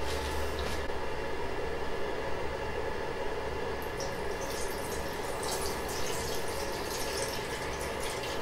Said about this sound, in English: So I got some alcohol here and let's pour some in